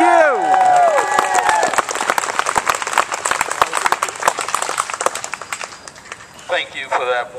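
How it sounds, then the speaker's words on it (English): A rally crowd applauds and cheers for Isaac Ferris Jr., dense clapping sustained for most of the stretch and tapering near the end, with whoops and voices mixed in over the top. "Why don't you give a big round of applause to Isaac Ferris Jr."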